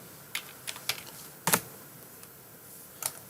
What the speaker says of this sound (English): Let's just type in center in there.